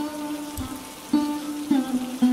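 Steady rain effect for a stormy night in an animated Bengali ghost story set around a club house, a constant soft patter with a sustained tonal drone and a few brief swells, no speech.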